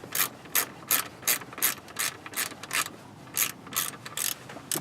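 A ratchet clicks in a steady, rhythmic series of quick strokes while starter motor bolts are snugged up firm, heard close and alone with no talking.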